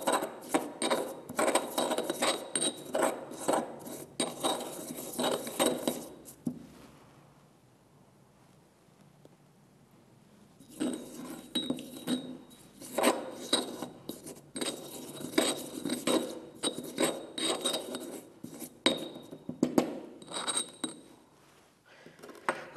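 A crushed plant sample is stirred with a little alcohol for chlorophyll extraction, giving close, rapid scraping and clinking bursts that stop for a few seconds midway, then resume steadily with no talking.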